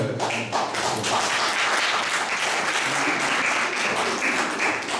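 A crowd claps steadily for a journalist at a gathering, producing a dense, sustained wash of applause that fills the whole stretch without pause.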